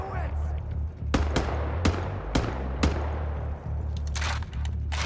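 Turret gunfire in the shooter game Wolfenstein: The New Order, with several sharp, loud shots spaced irregularly over a steady low mechanical rumble and background game noise.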